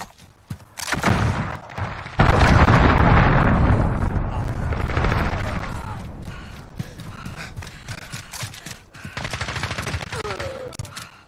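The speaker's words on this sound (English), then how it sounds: "Allied cruise missile launched." Cruise missile strike in Modern Warfare multiplayer: loud rumbling blasts and booms mixed with bursts of gunfire, swelling early and then thinning into scattered shots and game noise.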